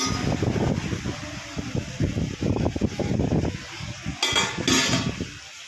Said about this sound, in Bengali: আমি মাটনটাকে ভালো করে কষিয়ে নিচ্ছি একটু টক দই দিয়ে আর জয়িত্রী ফল দিয়ে